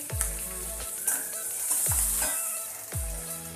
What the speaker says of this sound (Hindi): थोड़ा सा मैं इसमें कटा हुआ प्याज का पत्ता भी डालूंगी।